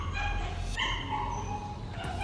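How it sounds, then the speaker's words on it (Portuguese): A neighbour's female dog yips and whimpers at a distance, faint and high-pitched over a steady low hum of room noise. "A cachorra do vizinho."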